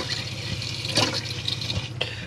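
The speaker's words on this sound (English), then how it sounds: "this is just showing that your water pump's working and your water's getting nice and hot there" Water runs steadily from the pump-fed tap of a Chausson VIP 720 Titanium motorhome, a continuous close splashing flow with a faint low hum beneath it.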